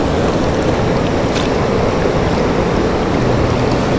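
Cold, clear water of the Parvati river near Kasol rushes over a stony bed in a steady, loud, close roar. No voices are heard.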